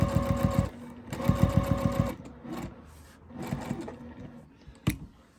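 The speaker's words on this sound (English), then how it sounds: "I'm just going to stitch it on. Right along the edge." Sewing machine stitching along the edge of a tote bag, running in close, loud bursts of rapid needle strokes with brief pauses between runs.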